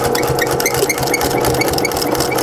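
A home sewing machine runs steadily while back stitching to lock a seam on a simple fabric coupon wallet, a continuous close mechanical whir with a fast needle clatter throughout.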